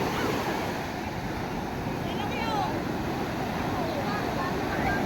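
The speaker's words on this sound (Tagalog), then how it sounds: "Tingnan niyo po ba naman ang alon" Ocean waves rush and churn around a boat at sea, making a constant loud wash of surf mixed with wind buffeting the microphone, while people's voices come faintly through the noise.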